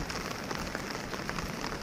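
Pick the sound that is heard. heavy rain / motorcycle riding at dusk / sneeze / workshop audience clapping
heavy rain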